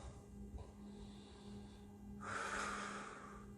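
Deep breathing during an at-home bodyweight workout, a faint inhale followed by a longer, louder airy exhale close to the microphone over a low background hum.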